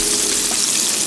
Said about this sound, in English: Salmon patties are still frying because, like I said, I want them to be golden brown.